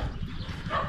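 A dog barks at a passerby outdoors on Bantayan island in the Philippines, a few quick rough barks in a busy, noisy setting, fairly close.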